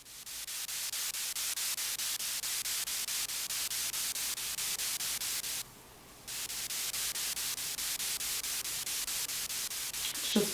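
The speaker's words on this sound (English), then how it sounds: "Just the white noise." Steady hissing white noise static from a device fills the clip, pulsing in a fast regular rhythm, briefly dropping to a softer hiss in the middle before resuming at full level, in the Knickerbocker Hotel.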